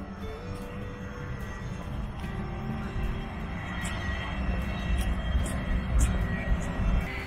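An airplane at Osceola Airport gives off a steady, broad engine rumble that swells slightly louder toward the end, with people talking over it.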